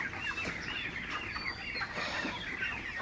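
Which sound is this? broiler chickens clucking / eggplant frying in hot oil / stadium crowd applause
broiler chickens clucking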